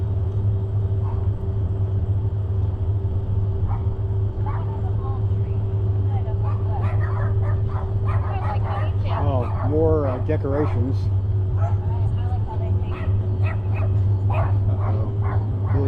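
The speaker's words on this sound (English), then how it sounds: "Really happy dogs." Several dogs bark and yip excitedly at a passing car during a ride through downtown Greencastle, Indiana, a cluster of barks peaking midway over constant engine rumble, with someone talking briefly.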